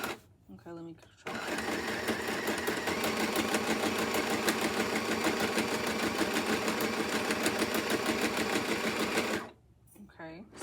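A Michele Tivax Sew & Sew Inspiration 700 sewing machine runs a straight stitch in a fast, even mechanical whir with rapid needle clatter for about eight seconds, framed by someone speaking before and after.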